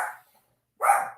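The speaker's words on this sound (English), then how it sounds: "Sorry about my dogs." Dogs barking indoors close by: two short, sharp barks separated by a moment of silence.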